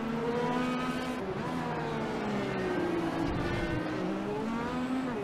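A race car rejoins the track at Barber Motorsports Park, its engine droning steadily and loudly throughout with shifting harmonic tones, no talk over it.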